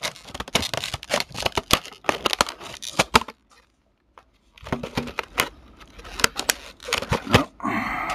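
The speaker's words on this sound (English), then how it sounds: "So we'll take some regular scissors here," Close snips and crinkling as regular scissors cut through a stiff plastic blister package, a burst of cuts, a brief pause, then more cutting and rustling.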